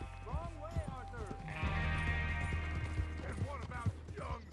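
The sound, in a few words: horse hooves in video game Red Dead Redemption 2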